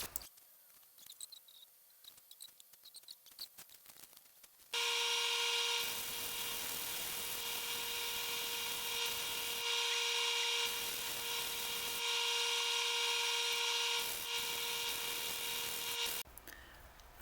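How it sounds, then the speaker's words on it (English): A drill bores random holes into a spalted sugar maple bowl in loud, high-pitched whining bursts close by. Each burst runs several seconds with brief pauses between, and quiet shop ambience comes before and after. "I was just going to go ahead and drill these random holes and fill them in it"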